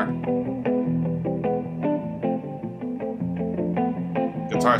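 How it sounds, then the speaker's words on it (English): Electric guitar with heavy reverb and a touch of distortion plays a lively riff of ringing notes from Malaguena, performed live, close and steady throughout. "The reverb on that guitar."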